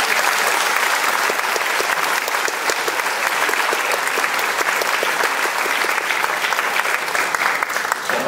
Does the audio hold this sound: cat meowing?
no